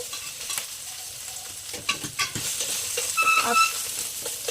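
Onion, ginger garlic paste and green chillies frying in hot oil in a pan, a steady close sizzle with scraping stir strokes and small crackles, no voices.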